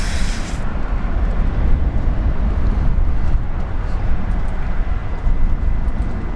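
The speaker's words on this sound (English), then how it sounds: "All right, Jetstar Dreamliner taking off." A Jetstar Dreamliner takes off at Brisbane Airport: a loud, steady, broad jet roar that stays near and fills the whole stretch, with no voices.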